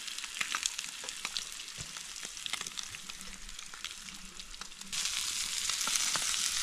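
Freshly caught Lake Agnes walleye sizzles in hot oil in a pan, a steady crackling fry that swells louder partway through, with no voices.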